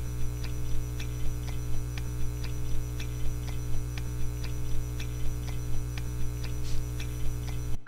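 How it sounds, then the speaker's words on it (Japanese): Jelly beans being chewed, picked up by a throat microphone, come through as soft, evenly spaced rhythmic clicks at a steady beat, sitting over a constant low electrical hum and noise. "ジェリービーンズこんな音。"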